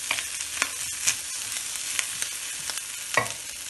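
Lunch frying in a pot while being stirred, a soft steady sizzle with a few sharper scrapes and clicks from the utensil, near and fairly quiet, no voices.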